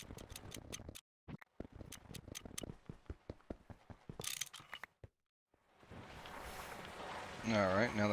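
Repeated sharp mechanical clicks and ratcheting taps from a wrench dismantling a pyrolyse oven in the GregTech New Horizons Minecraft modpack, arriving in quick irregular bursts with a brief gap, followed by a busier swell of machine noise.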